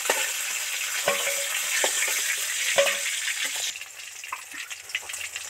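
Rui fish heads deep-frying in a pan of hot oil give a steady close sizzle, with occasional clinks and stirring sounds as pieces are turned and lifted out.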